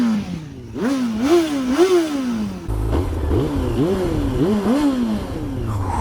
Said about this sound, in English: Now, this bike is a 954cc inline 4, and before we go, I'll just give you a quick rev of it.